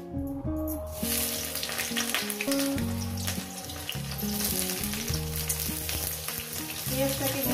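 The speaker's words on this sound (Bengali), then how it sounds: "তেলটা আমার গরম হয়ে গেছে, এখানে দিয়ে দেবো আপনার পেঁয়াজ।" Onions dropped into hot oil for frying squash-flower omelette sizzle loudly and continuously, with a sudden burst at the start and steady crackle after, no talk.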